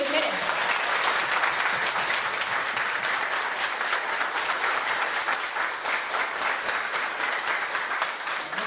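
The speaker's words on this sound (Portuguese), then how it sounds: "uma salva de palmas para os pais que estão aqui" Sustained applause from parents and staff at a school parents' meeting for state colleges in Cantagalo, steady and fairly full throughout, with no talk over it.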